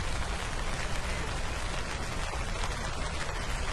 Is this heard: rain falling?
yes